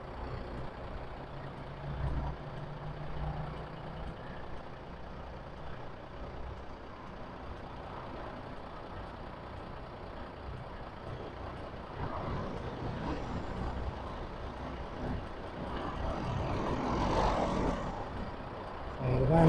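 A lorry pulls in on a road beside a car park, its diesel engine rumbling at a distance and building louder toward the end, with a brief air-brake hiss among the traffic noise.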